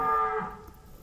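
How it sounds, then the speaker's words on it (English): Cattle lowing near a fishing spot: one drawn-out moo, fairly close and full, that fades into quiet outdoor background. No one speaks. "Might be healthier to eat those cows."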